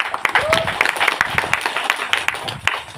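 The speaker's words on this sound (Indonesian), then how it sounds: "Tepuk tangan dulu." An audience claps at a political gathering in Sumba, with quick, uneven claps mixed with voices and cheering throughout.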